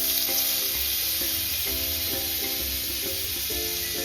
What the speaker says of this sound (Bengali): কড়া তেলটা গরম হয়ে গেছে এই যে বাটারটা দিয়ে দিলাম